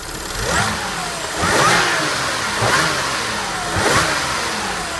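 A supercharged Audi S4 engine with an upgraded pulley revs up repeatedly, four strong surges rising and falling over a steady idle, loud and close with no talking.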